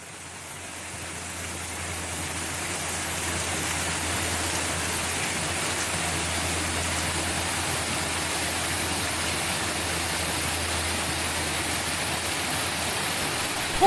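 Summer flow at Uvas Canyon's Lower Falls, a waterfall 25 to 30 feet high, gives a steady broadband rush that holds even and continuous throughout, close and fairly loud with no talk.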